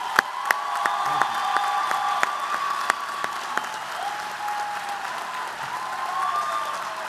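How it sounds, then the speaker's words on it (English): Sustained audience applause fills a large commencement ceremony at Montgomery County Community College in 2015, steady and dense with a few sharper claps standing out, while faint voices murmur underneath. "please join me in a round of applause"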